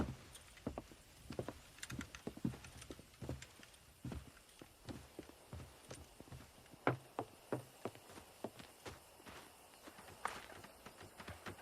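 Horse hooves clip-clopping while horses are broken in, in Red Dead Redemption. Uneven, fairly close hoofbeats thud and clack in loose clusters, with scattered steps and short pauses between them.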